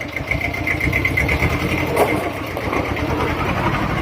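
Small ISEKI TS 2210 tractor engine running steadily as the machine drives off, a close, loud mid-pitched chug with a rapid regular pulse that holds even throughout, no voices over it.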